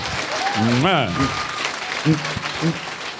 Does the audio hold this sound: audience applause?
yes